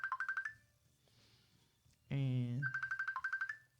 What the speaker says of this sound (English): But that's your phone.